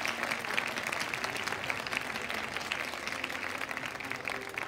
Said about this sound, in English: A loud round of applause for each one of you.